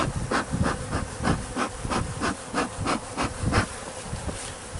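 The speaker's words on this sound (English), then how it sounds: "Folks, this is a lot of bees." A dense mass of honeybees from a large hive being removed buzzes loudly and close, a continuous droning hum pulsing in quick irregular waves, with no voices.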